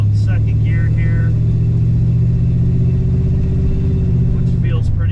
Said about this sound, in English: I'm pulling out in second gear here